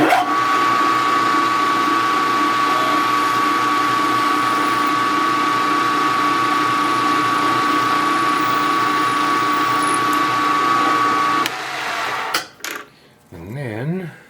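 A power drill bores a hole for a Stirling engine helicopter build, its steady whine running unbroken and loud for about eleven seconds before stopping, followed by brief handling noise and a short voice at the end.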